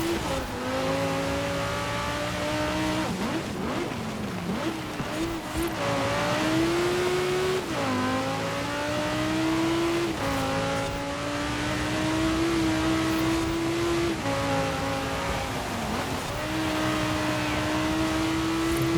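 A car in Forza Horizon 4 runs on slick tyres over a frozen winter road, its engine droning loudly with repeated rev rises and drops at gear shifts, continuous and up close.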